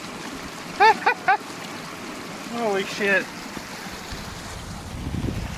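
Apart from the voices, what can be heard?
water flowing over a road like a waterfall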